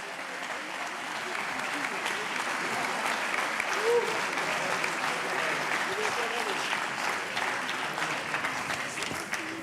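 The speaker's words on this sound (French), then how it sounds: "on peut les applaudir." An audience at an awards ceremony applauds steadily, a dense, even wash of many hands clapping that holds at the same level for the whole stretch.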